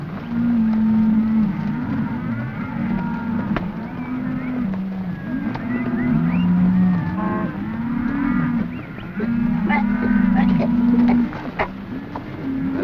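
A herd of cattle lowing on a trail drive, many overlapping moos from near and far in a steady chorus, with occasional clatter beneath and no speech.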